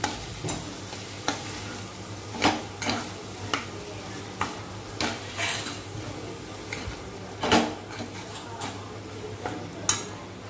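Potato and cashew curry being stirred in a pan on the stove, a spoon scraping and clinking against the metal in irregular strokes over a low sizzle, with no talking.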